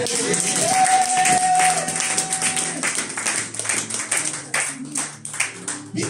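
A church congregation claps and cheers to acclaim the Lord during a sermon, rhythmic tapping applause and shouts swelling over sustained organ or keyboard tones.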